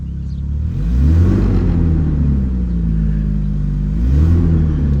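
Chevrolet S10 truck engine revving up and settling several times, a loud, close rumble with rising and falling pitch and no talk.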